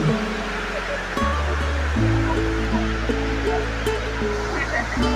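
A waterfall in Kanchanaburi during the rainy season, with a constant broad roar of rushing water under someone speaking and a steady mechanical hum.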